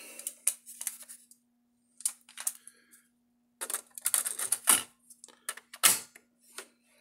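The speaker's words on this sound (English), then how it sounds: "So I'm gonna eject and put a tape in the transport." A cassette is loaded into a Tascam 122 MkIII cassette deck, giving several close, sharp plastic clicks and clunks in quick bursts with short quiet gaps between them and no talking.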